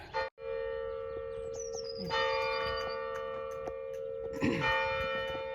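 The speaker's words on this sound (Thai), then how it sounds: "เสียงระฆังนะคะ" A village church bell rings at four in the afternoon with sustained, ringing tones that swell and linger, struck again a couple of times amid faint background noise.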